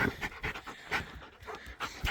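A dog pants rapidly and close by during a shed antler hunt, with quick, rhythmic huffing breaths at about four per second and no voices.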